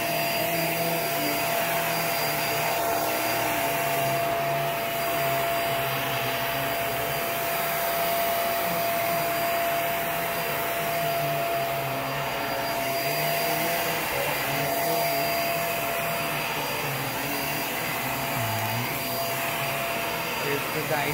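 Hoover React Professional Pet vacuum cleaner running on carpet, a continuous loud motor whine with a steady tonal hum and slight shifts in airflow as it is pushed across the pile.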